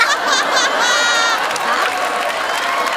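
A studio audience at a Marathi comedy show applauds and laughs continuously, a dense wash of clapping with chuckles mixed in, loud and close throughout.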